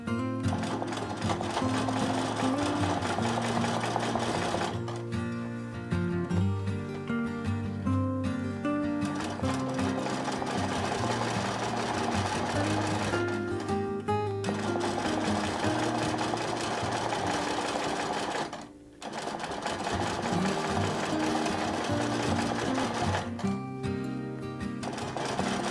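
A sewing machine stitches a quilting grid line, its fast mechanical whirring running in sustained bursts separated by brief pauses, close and steady with no talking.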